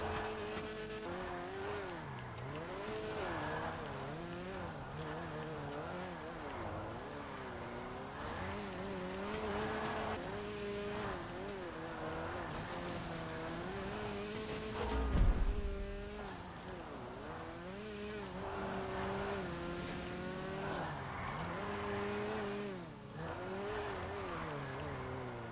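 Rune Cheburek, a Lada-style car in GTA 5 Online, revs hard in first gear while drifting, its engine note rising and falling in long wavering sweeps with tire squeal and one brief thump partway through, steady and close throughout.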